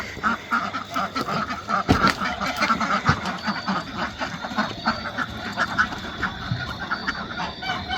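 A flock of waterfowl quacks and honks continuously, a busy overlapping chorus close by with no pauses.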